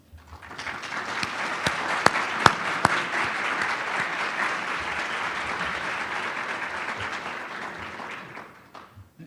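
An audience at an awards dinner gives a sustained round of applause that swells in, holds steady with a few sharp nearby claps, then fades out at the end.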